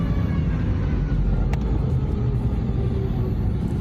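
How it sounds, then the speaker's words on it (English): A passenger airplane touches down on its belly without landing gear, heard as a dense, steady low rumble and roar throughout, with a brief higher scrape midway. "this was the moment the plane landed without the landing gear"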